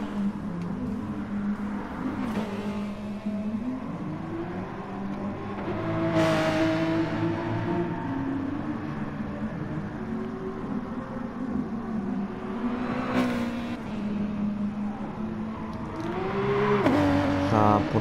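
A Porsche race car engine in a sim racing game is pushed flat out at night, holding a steady high drone that rises in pitch on several revving pulls, with short whooshes of other cars passing.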